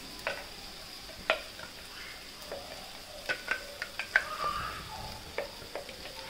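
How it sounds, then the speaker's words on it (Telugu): Ginger garlic paste and ground masala frying in a pan with turmeric for stuffed brinjal curry, a quiet continuous sizzle broken by scattered ticks and clinks of a spoon stirring. "ఇది కొంచెం పచ్చివాసన అంతా వెళ్ళేంత వరకు వేపుకుందాం."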